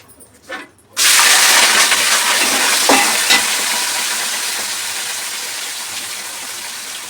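Sliced onions dropped into hot oil and frying on high flame, a sudden loud sizzle that settles into a steady, close crackling hiss with a faint stir or two.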